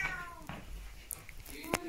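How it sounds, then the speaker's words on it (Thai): A cat meows in short indoor cries, a couple of faint calls under low household noise, fairly close but quiet. "ร้องเหมียวเหมียวร้องหาพ่อหาแม่"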